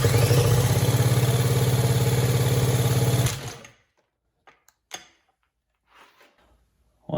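A 1966 Mercury 110 9.8 hp outboard motor is cranked over for a compression check, a fast steady rhythmic chugging for about three seconds that stops abruptly, followed by a few faint clicks and handling noises.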